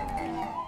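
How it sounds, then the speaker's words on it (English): A brief, faint wailing siren in the background, its tones holding steady over a short stretch with a low rumble underneath and no talking. "Sorry for the siren in the background."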